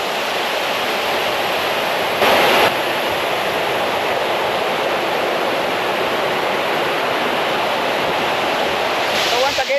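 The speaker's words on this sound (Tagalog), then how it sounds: "So ayan o, tingnan nyo, malakas yung tubig and maganda maligo rito." Strong flowing water at Pinaliwan Falls in Igsoro, Bugasong, Antique roars as a steady, loud, dense wash of noise that holds unbroken throughout, close and constant.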